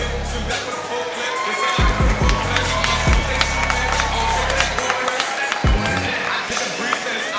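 A crowd claps and cheers at a European championship women's fight in Geneva, steady applause under an announcer's voice with heavy thumps and low booming beneath.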